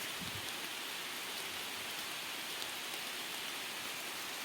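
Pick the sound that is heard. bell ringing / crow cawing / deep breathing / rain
rain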